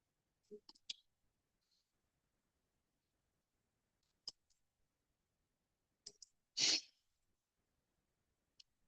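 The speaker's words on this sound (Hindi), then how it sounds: "right click" A computer mouse gives a few sharp, sparse clicks in a quiet room, spread out over several seconds, with a breathy burst of noise partway through.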